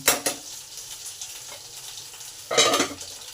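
Potatoes fry in a pan with a soft, even sizzle, interrupted by two bursts of loud stirring and scraping at the start and near the end.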